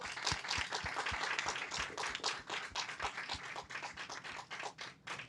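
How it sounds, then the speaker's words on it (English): Audience applause following a reading at a book talk, a steady patter of many hands clapping at moderate distance, fairly soft, with no talk over it. "Yes, more applause."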